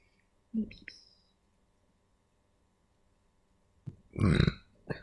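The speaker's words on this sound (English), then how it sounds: "Burp." Two burps, a short one followed after a pause by a longer, louder, throaty belch, close up in an otherwise quiet room.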